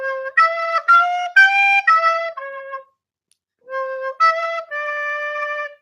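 Recorder playing the second phrase of "Oh When the Saints": a series of clear, breathy piped notes in two short bursts separated by a brief silence, close and unaccompanied.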